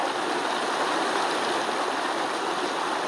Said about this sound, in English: That is water a creek running over a flat rock.